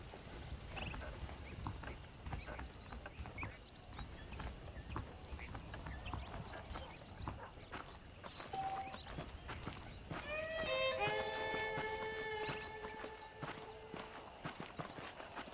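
Steady horse hoofbeats clip-clopping in the video game Red Dead Redemption over a constant outdoor bed, with a brief bright whinny-like tone near the end.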